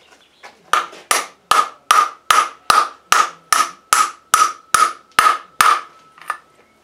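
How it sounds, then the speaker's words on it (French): Hammer blows drive a bearing, struck on its inner race, into the crankcase of a 2009 DT 50 motorcycle. About a dozen sharp, ringing metallic knocks come in an even, steady rhythm, close and loud, with no talk. "Donc là on va être obligé d'y aller par contre au marteau."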